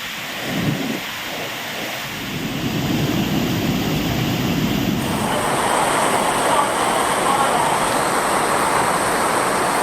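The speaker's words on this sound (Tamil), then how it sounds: "குற்றாலம் மெயின் அருவியில் பயங்கர வெள்ளம் ஏற்பட்டது" The flooded main waterfall at Courtallam in Tamil Nadu after heavy rain: a loud, continuous roar of rushing water that builds after the first couple of seconds and holds steady, with no talking.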